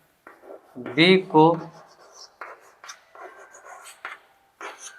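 A pencil drawing a straight line on paper during a class 10 geometry construction, giving soft, scratchy strokes up close, with a voice talking quietly over them.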